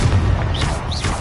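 Confringo fire spell blasting in the Hogwarts Legacy video game, a loud, dense burst with low rumble and two brief rising whooshes, standing alone without talk.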